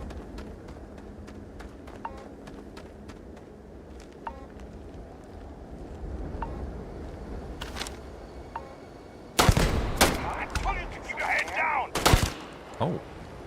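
Gunfire from Starfield, with faint scattered shots and game ambience at first, then a loud close volley of heavy shots near the end.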